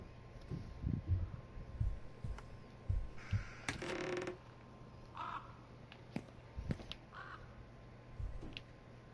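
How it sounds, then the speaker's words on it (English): Crow cawing in the horror video game Remothered: Broken Porcelain, several harsh caws spread across the span along with soft footsteps and a brief clatter, fairly quiet overall with no talk. "I heard a crow."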